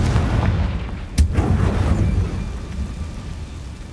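A Confringo blasting spell explodes in the Hogwarts Legacy video game with a sudden loud crack and booming blast, followed by a rumbling decay over low ambient noise.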